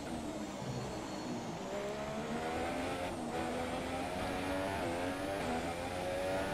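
Formula 1 race car engine in F1 2017 at Silverstone, a steady high-pitched whine with shifting harmonics, continuous and loud, no talking.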